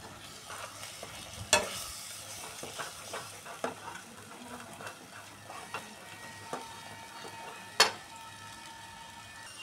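A spoon stirs a fish jhuri cooking in a pan with a spoonful of ghee, giving soft scraping and clinks with a couple of sharper metallic knocks, over a low background hum.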